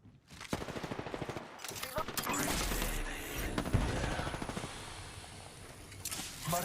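Rapid automatic gunfire from a video game shooter, bursts of fast cracks in the first seconds then a denser sustained barrage, with voice chat talking over the shooting throughout.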